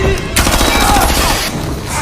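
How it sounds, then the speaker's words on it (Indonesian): Loud burst of gunfire in a film scene as a captain and his men open fire, dense overlapping shots running continuously and close, with a harsh blast onset. "meski sempat diberondong peluru oleh si kapten dan seluruh anak buahnya"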